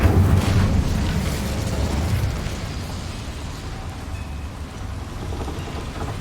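An Incendio fire spell cast in Hogwarts Legacy, a loud burst of roaring, crackling flame that swells at the start and then settles into a steadier rushing burn.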